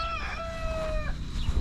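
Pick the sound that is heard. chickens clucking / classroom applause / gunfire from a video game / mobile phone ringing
chickens clucking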